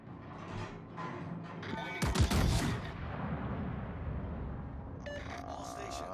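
Warship gunfire in the naval game World of Warships, one heavy booming salvo rumbling midway amid a low background roar, with someone talking quietly around it.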